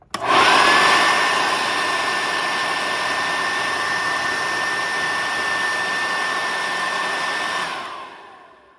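A Sanitaire upright vacuum cleaner motor whirs up quickly, holds a steady loud hum for several seconds, then spins down and fades out.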